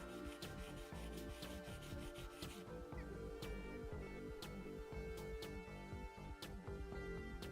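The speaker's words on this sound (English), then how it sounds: "I run it across the sandpaper" A small lock pin rubbed back and forth on fine black sandpaper, giving close, soft, rhythmic scratchy strokes with faint clicks and taps throughout.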